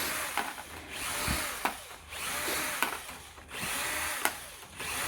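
Power tool whirring in bursts while car parts are unscrewed on a Toyota Prius Alpha's EGR system, a drill-like buzz rising and stopping several times with clicks between, fairly close.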